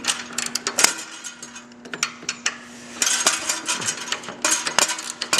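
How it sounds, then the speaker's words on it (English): Socket wrench working the lock nuts off a cross-country mountain bike's lower link: repeated metallic ratcheting clicks and clinks in bursts, close and fairly loud, with no talk. "take your socket, and all we're trying to do at this point is get the nuts off."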